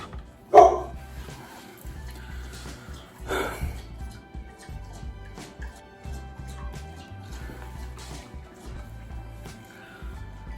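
A pet dog barks indoors with a few sharp yaps and whimpers spread across the stretch, separated by quieter shuffling and background noise.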